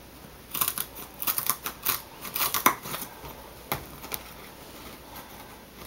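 Scissors snip through a donor piece of frieze-style carpet, a run of close, crisp cuts with short pauses between bursts.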